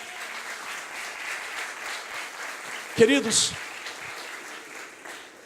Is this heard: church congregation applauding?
yes